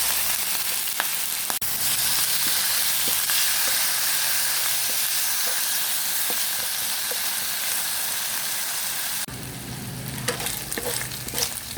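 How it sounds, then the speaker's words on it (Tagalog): Chicken sizzles steadily in a little cooking oil in a pan, a dense continuous frying hiss broken by occasional clicks of stirring, growing busier and crackling toward the end. "Igisa ko lang yung chicken."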